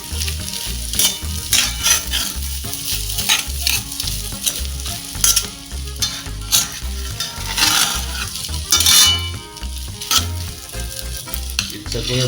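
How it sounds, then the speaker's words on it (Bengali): Metal utensils clang and scrape repeatedly against a wok in an uneven rhythm over loud, continuous sizzling of fried rice being stir-fried, close and busy. "রান্নার সময় এই ঠুন ঠান শব্দটা শুনতে কিন্তু বেশ লাগে"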